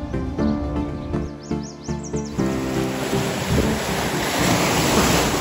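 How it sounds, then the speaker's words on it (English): Ocean waves wash onto the shore of Woods Island, a continuous close roar of surf mixed with gusting wind buffeting the microphone, preceded by a few brief knocking sounds. "I love the water. One of my favorite things to just hear."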